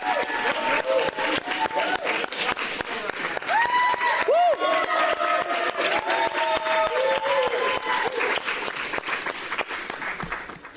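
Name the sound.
conference audience applause and cheering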